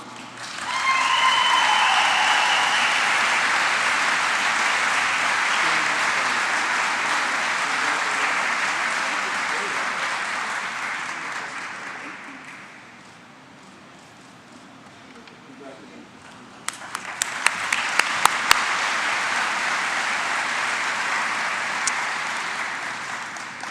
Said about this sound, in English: please join me in applauding all of this year's award recipients once more